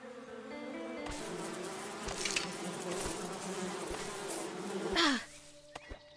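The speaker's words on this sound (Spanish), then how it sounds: "Cuidado con la... abejas que pican, ¿eh?" Bees buzz steadily throughout in the video game Above Snakes, a dense droning swarm with music underneath, swelling loudest near the end before a sudden drop.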